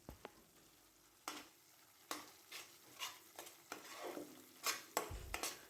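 A paste of cashew, poppy seed and mustard is stirred into frying chilli, ginger and spices in a pan, with a soft background sizzle broken by sharp spoon scrapes and taps at irregular intervals, close but quiet.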